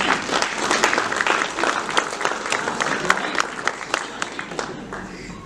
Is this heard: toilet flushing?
no